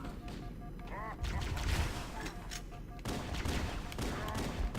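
Rapid bursts of gunfire in a hard-mode shooter video game, loud and dense, with game sound effects and voices mixed underneath throughout.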